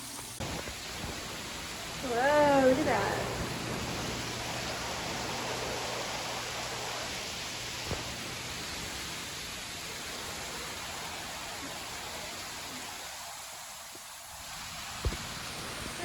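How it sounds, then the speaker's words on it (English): Steady rain pours during a passing storm, a broad even hiss lasting throughout, with a voice briefly exclaiming over it near the start. "it started raining. A storm came through, another one."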